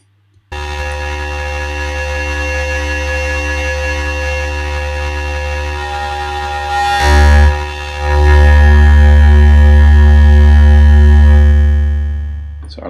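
A synth patch in Logic's Alchemy blending additive and FM synthesis, run through a comb filter tuned down, sustains a dense buzzing harmonic drone with a brief dip around the middle before swelling louder, then fading out at the end.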